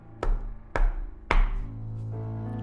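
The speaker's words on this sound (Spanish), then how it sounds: "se escuchó tocar la puerta" Three slow, heavy knocks on a wooden door sound one after another, each thud ringing briefly before a low sustained tone swells underneath.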